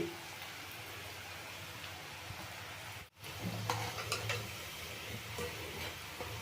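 Kodubale, ring-shaped rice-flour dough snacks, frying in hot oil on a medium flame, with a steady close sizzle and crackle that runs throughout, briefly cut out midway, then returns with light stirring and clinks.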